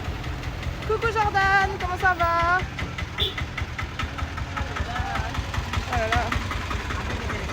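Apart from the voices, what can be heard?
large tractor engine running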